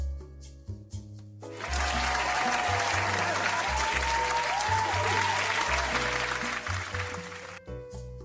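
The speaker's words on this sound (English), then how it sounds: "All right, round of applause." An audience breaks into loud, sustained applause with some cheering, rising sharply and then tapering off into scattered claps.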